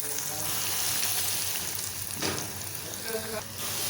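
Fish cutlets fry in hot oil over medium heat, a close, steady sizzle and crackle filling the whole stretch with small pops and faint clatter, no voices.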